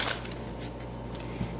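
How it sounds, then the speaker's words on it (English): Tarot cards being shuffled by hand, soft quiet riffling and papery flutters in a short continuous stretch, close and faint, no talking. "So I already pre-shuffled these cards for you, but I'm going to shuffle a bit more here."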